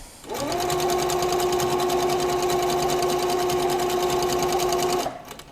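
A Pfaff Powerquilter sewing machine runs at about 40% speed during free-motion quilting, giving a steady close mechanical whir with fast, even stitching for about five seconds before it stops.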